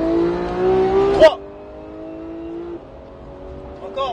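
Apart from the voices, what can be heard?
Porsche GT3 991 accelerating on race track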